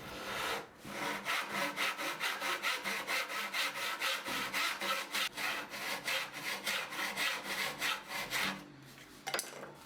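A handsaw rasps through wood along a tenon line, with quick regular back-and-forth strokes that are close and crisp, run without a pause and end with a few lighter scrapes.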